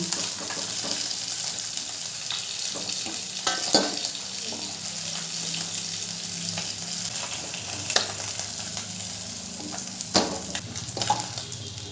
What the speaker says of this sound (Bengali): মাছগুলো উল্টে পাল্টে খুব ভালো করে ভাজা হয়ে গেছে